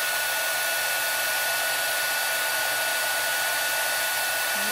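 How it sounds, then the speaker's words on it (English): An embossing heat gun blows hot air in a constant, fairly loud whooshing hum with a high whine, steady throughout with no talking. "You're going to bring in your heat tool, your embossing gun, and you're going to put heat to that."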